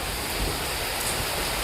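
Rain falling outside during a thundery monsoon downpour, a steady, even hiss with no break across the short moment.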